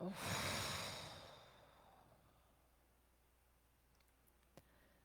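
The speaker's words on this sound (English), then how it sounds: "And exhale, blow it out." A single forceful exhale blows out through the mouth, breathy and close, loudest at the start and fading over a couple of seconds into a quiet room.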